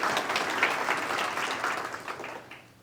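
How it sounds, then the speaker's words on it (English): An audience at a luncheon presentation claps in a steady, moderately loud burst of applause that holds evenly and then tapers slightly at the close. "let's give them a big thank you and a big round of applause."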